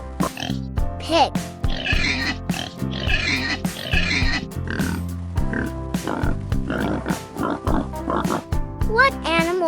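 A pig oinks and grunts in a series of close, loud, uneven snorts, in an animal-sound guessing game for young children, with some voice-like sounds mixed in.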